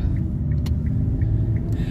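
Car driving through holiday-season traffic, a steady low engine and road rumble filling the cabin with a few faint ticking clicks at regular intervals, no talking.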